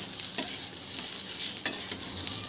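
Grated coconut, garlic and ginger dry-roasting in a pan, heard as a continuous crackly hiss with brief louder scrapes from stirring, close and fairly even with no voices.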